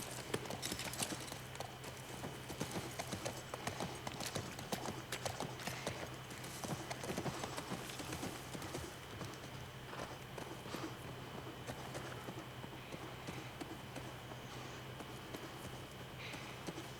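Horse hooves clip-clop at a steady walking pace on the ground in The Last of Us Part 1 video game, a continuous rhythmic plodding over soft game ambience with no talking.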